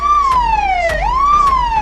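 A cartoon ambulance siren wails alone, a loud, close rising-and-falling electronic tone sweeping through about one and a half cycles with no talk over it.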